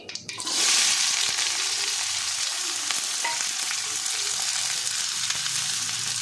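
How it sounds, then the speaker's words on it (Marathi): Onions sizzle loudly in a pan of hot oil after cumin and mustard seeds have crackled, a steady broad frying hiss that jumps up as they go in and holds for several seconds. "हे कांदे थोडेसे नॉर्मल फ्राय करून घ्यायचे असे आपण."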